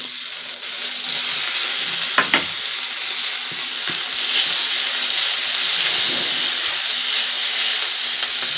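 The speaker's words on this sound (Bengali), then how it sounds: "আমি চিকেনগুলোকে দিয়ে দেবো চিকেনগুলোকেও কিন্তু ভালো করে ভেজে নেব" Chicken pieces and green chillies fry in a pan with a loud, continuous hissing sizzle; a couple of brief utensil knocks come early on, then the steady frying carries on alone.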